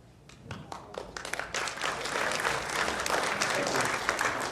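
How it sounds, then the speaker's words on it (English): A hall audience at a Mayor's Night Out gives applause to city employees after their names and departments are read; a few scattered claps open before the clapping swells into steady, full applause that holds to the end. "I think that's the first time the employees ever got applauded."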